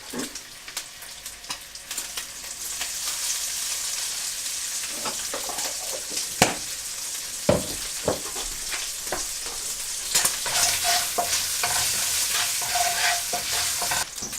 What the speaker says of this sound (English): While I'm browning the lard,